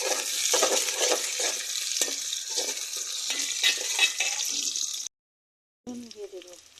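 Bay leaves and cinnamon hit hot oil in a home kitchen while cooking country chicken curry, giving a steady loud sizzle with stirring scrapes, then a brief silence and a softer sizzle.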